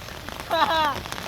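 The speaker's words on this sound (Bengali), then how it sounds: "তো এখন মুসলধারে বৃষ্টি পড়তেছে" Steady heavy rain pouring down over a river, with a brief burst of voices or a harmonic squeal in the middle, close and moderately loud.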